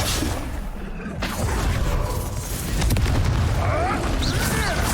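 Expulso spell blasts go off in a fight in the Hogwarts Legacy video game, with heavy booms, whooshes and magical crackles layered over dense, continuous combat noise.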